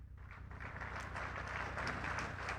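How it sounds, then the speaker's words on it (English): Applause rises from a crowd welcoming faculty members at an institute's felicitation event, a continuous wash of clapping over a low steady hum, building slightly and holding. "with a huge round of applause, welcome esteemed faculty members, Mr. Mudassir Rashid Khan,"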